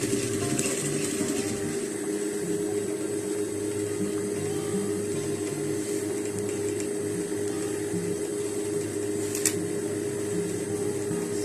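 Sewing machine stitches fabric while making a ruffle twist balloon sleeve, a steady mechanical hum with a soft rapid rhythmic clatter running the whole time, with no talking over it.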